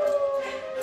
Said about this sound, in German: Uns rennt ein Wolf hinterher.